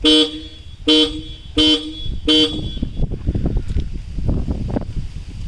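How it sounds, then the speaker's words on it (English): Four loud, evenly spaced honks from a new Hella horn fitted to a 2009 ex-army Maruti Gypsy 4x4 petrol, each blast bright and close, followed by rustling, knocking background noise. "We have installed a brand new horn Hella."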